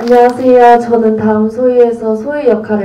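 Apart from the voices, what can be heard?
No everyday noises stand out.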